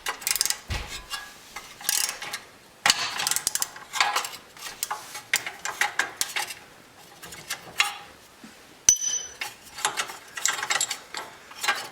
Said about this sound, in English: you use a 3/8 drive up on the top. And you just want to cinch down on this until it pops the tie rod free from the hub